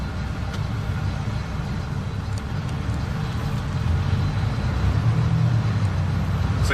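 A Peterbilt heavy truck with a 12-speed transmission pulls away, its diesel engine rumbling low and steady up close, growing slightly louder as it gets moving.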